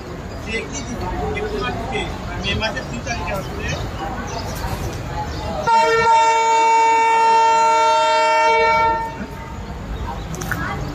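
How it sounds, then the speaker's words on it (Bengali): A train horn blares steadily for about three seconds over a noisy crowd as a train arrives at Rajshahi railway station, with rumbling background activity before and after. "চাপাই লাইনের দিকে ট্রেনটি প্রবেশ করছে"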